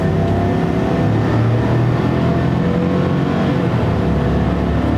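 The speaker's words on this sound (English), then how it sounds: "Let's give it some full throttle here." A Chevrolet truck's EcoTec3 5.3L V8 is pushed at full throttle, a loud close engine roar that climbs and holds under hard acceleration, with no talking.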